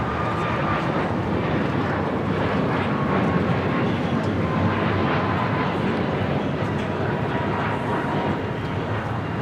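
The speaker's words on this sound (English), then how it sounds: "This is Southwest Airlines 264 taking off to Phoenix on a MAX 8." Steady, loud jet roar of a Southwest Airlines Boeing 737 MAX 8 taking off at LAX, a broad continuous engine rumble without pause, heard from a moderate distance.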